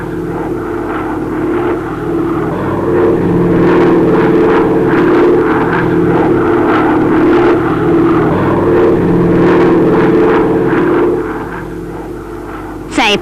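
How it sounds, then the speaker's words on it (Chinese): A 1983 Chinese civil airliner flying at over 8,000 metres on the Chengdu to Lhasa route, its engines giving a steady, loud cabin drone that holds throughout and eases slightly near the end. "在8000多米的高度上，飞机仍然好像是在贴着雪山的峰间飞行"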